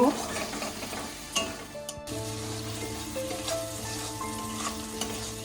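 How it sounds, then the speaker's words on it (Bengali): Chopped tomatoes and whole onions sautéing in a pan for a paneer curry, a steady sizzle with stirring and occasional utensil scrapes and clinks. "টমেটো, ছোট টমেটো কাটা আর 3টে পেঁয়াজ, গোটা পেঁয়াজ দিয়ে আমি একটু কষিয়ে নেব।"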